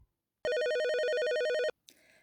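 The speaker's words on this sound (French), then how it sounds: "Le téléphone sonne." A telephone rings with a single loud electronic warbling tone lasting just over a second, alone in silence, followed by a short faint noise.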